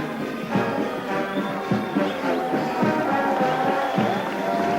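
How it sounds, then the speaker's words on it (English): A crowd cheers at a D-Day 50th anniversary parade, with a steady wash of cheering and a band playing along underneath, the noise rising and holding loud throughout. "Crowd now cheering to the echo."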